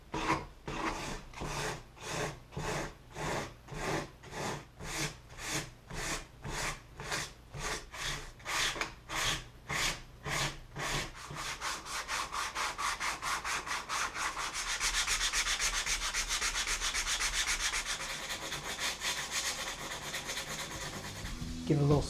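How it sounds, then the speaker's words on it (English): Coarse 80-grit sanding block scrubbing across a padded car dashboard, close and loud: slow, steady back-and-forth strokes at first, then quickening into a fast, continuous rasping scrub. "Look at the sanding block. I'm going to block it out a little bit. It's 80, it's pretty aggressive"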